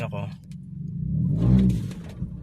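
Car engine revving up hard as the accelerator is suddenly floored, the surge rising to a peak mid-clip and easing off, with someone talking over it throughout.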